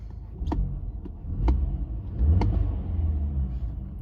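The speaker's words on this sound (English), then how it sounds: "let's give it some gas" A car engine revs several times in short bursts over a steady idling rumble, close by, with no talking.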